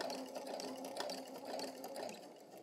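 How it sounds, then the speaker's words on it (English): A sewing machine slowly stitches around a curve in fabric, giving a faint, even, continuous hum for the whole stretch with no talking. "sewing slowly"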